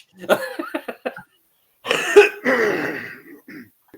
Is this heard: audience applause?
no